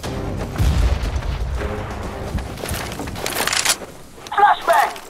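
A grenade or flashbang goes off in CS:GO with a deep, booming blast near the start, followed by rumbling and crackling game noise and a few sharp bursts toward the end.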